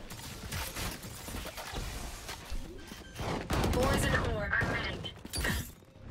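Gunfire bursts from a tactical shooter video game, with rapid volleys of shots and impacts over several seconds, fairly loud and dense, alongside a player talking.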